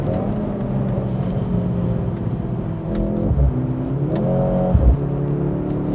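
A 680 HP Mercedes-AMG C63 S E with a 2.0-litre engine rumbles and revs inside a tunnel, its steady, loud drone rising and falling in pitch as the throttle changes, with echoing reverberation and no talking.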